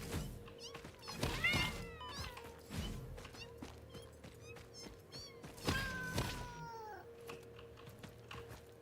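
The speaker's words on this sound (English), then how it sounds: "A local tabby cat." A tabby cat in a video game meows several times, with short rising and falling cries spread over several seconds, fairly faint against a low background hum and occasional soft thuds.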